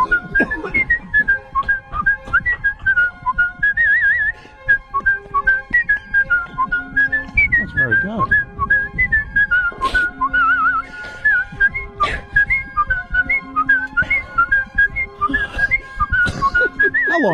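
A man whistles a song solo, a bright melodic line of sustained and warbling notes running continuously for the whole stretch, close and clear with a few brief pauses.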